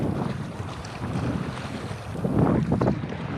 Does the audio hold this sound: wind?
yes